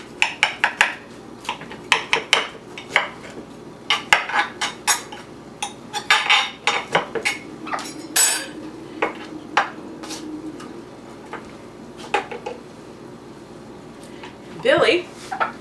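A knife cuts a slice from a freshly baked, cooled cake, with sharp clinks and taps of metal on a plate scattered rapidly throughout, loud and close, mixed with scraping and handling noises.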